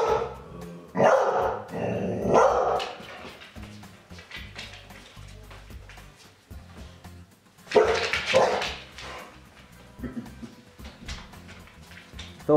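An American Staffordshire terrier barks loudly during a guard dog test, in two sharp bursts of repeated barks with growling and yips between them, close and intense, with no speech.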